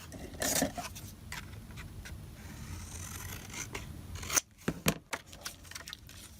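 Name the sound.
trimming a stamp with scissors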